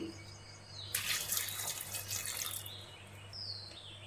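Water is poured from a tap into a pressure cooker holding chickpeas with a little salt in a home kitchen, a brief splashing gush that stops, followed by a thin trickle and a soft high squeak.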